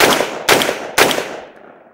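Three sharp, loud gunshots from a Stribog SP10A3 10mm pistol with a folding brace, evenly spaced about half a second apart, each followed by a short ringing tail that fades into quiet.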